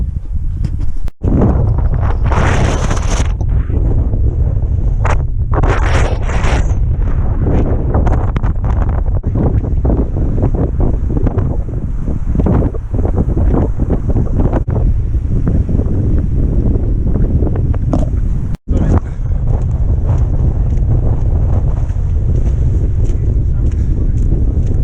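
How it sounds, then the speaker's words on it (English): Strong coastal wind on the Northumberland shore buffets the microphone in a loud, constant roar, with brief gusty swells and a voice faintly in the mix. "it's glorious out there, but it's blowing a hoolie."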